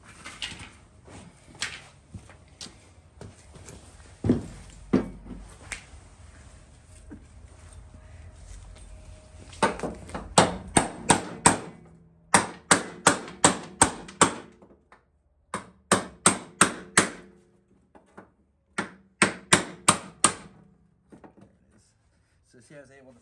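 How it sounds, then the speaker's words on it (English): A hammer strikes a chisel to knock apart old welds on a Volkswagen pan, sharp metallic knocks in quick bursts of several blows separated by pauses, close and loud. "now I'm going to get a chisel and a decent sized hammer and see if I can knock some of what's left of the strength of these welds loose"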